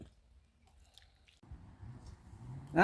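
Someone chews stir-fried bean sprouts with tofu close to the mic: near-silence first, then soft wet squishing bites that grow into a louder burst at the end, with no talking.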